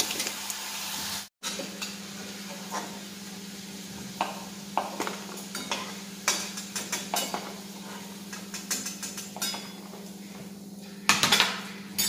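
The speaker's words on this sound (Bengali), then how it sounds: "এভাবে আমি সবগুলো ভেজে নিচ্ছি।" Cauliflower florets fry in a pan with a low, steady sizzle, while a utensil clinks and scrapes against the pan now and then and a sharper clatter comes near the end.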